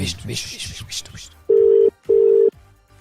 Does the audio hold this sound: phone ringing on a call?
yes